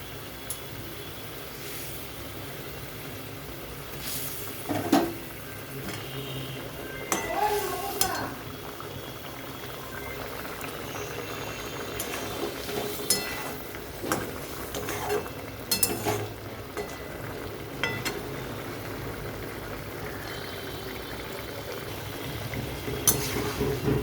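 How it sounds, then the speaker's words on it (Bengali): Fried parshe fish being added to a sour yogurt curry and stirred in a pan, with soft bubbling, occasional spatula scrapes and clatters against the metal, fairly quiet overall. "তো এখানে আমি ভেজে রাখা মাছগুলো দিয়ে দিচ্ছি।"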